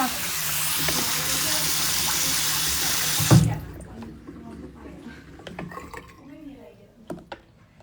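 Running tap water splashes loudly into a sink as hands are washed, a steady close gush that cuts off abruptly partway through, followed by quieter room sounds and light handling noises.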